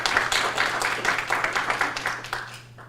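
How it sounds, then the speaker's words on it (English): Audience applause at a live industry talk event welcoming a former Intel CEO back to the stage, a dense, fairly loud round of clapping that holds steady and then fades, with a low steady hum underneath. "Please give him a round of applause."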